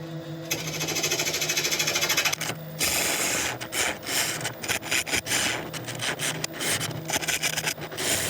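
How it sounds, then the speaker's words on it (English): A wood lathe turns down the centre of a bowl base, giving a close, continuous scraping and rasping cut that rises and falls in intensity, with a brief pause early on before the tool bites again. "I'm just going to very, very quickly turn this centre down"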